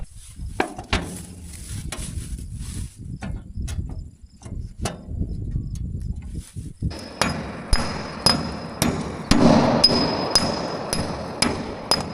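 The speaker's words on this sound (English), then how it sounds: "I think I'll take a sledgehammer, beat that off a little bit." Repeated sharp metallic impacts ring out at an irregular pace, close and loud, as a sledgehammer knocks concrete off a grain unload door, with a steady insect-like buzz and hiss behind them and no talking.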